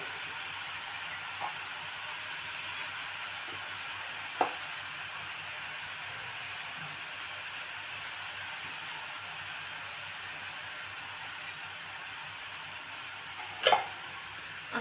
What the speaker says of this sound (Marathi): आता आपण छान याला परतून द्यायचं व्यवस्थित